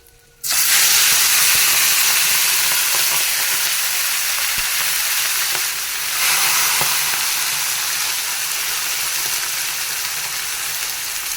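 Boiled beef, dried red chillies and oil in a hot pan, a sudden loud sizzle that settles into steady hissing and crackling frying.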